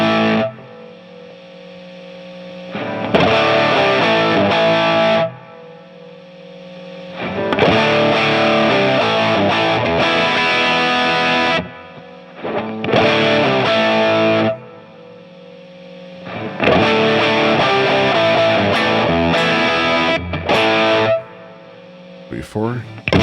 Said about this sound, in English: Sounds like a tube screamer.